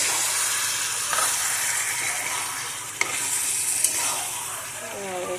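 Paneer mix bhaji sizzling steadily in a hot pan while a spoon stirs it, a continuous hiss broken by a couple of sharp scrapes and taps against the pan.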